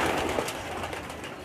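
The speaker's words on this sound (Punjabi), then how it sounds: "ਇਹ ਜੀ ਕਬੂਤਰ ਸਾਡੇ ਦਾਣਾ ਖਾਣ ਡਿਆ ਨੇ" Pigeons feeding on grain in Lahore fill the scene with a dense, steady chorus of cooing and soft rustling bird noise throughout.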